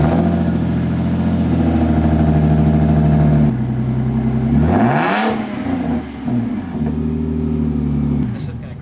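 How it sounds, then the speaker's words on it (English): A Lexus IS300 running stock headers with three catalytic converters revs loudly close by, its engine note rising and dropping through several throttle blips with a sharp swell in the middle, while people talk over it. "Before we begin, I want to do a sound clip of both cars. This one, stock headers,"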